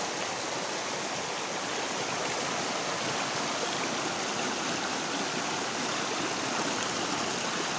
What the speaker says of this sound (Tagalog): yung agos ng tubig, napakalakas